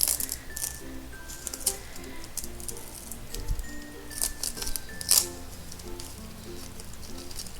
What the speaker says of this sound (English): So let's go ahead and remove all that tape.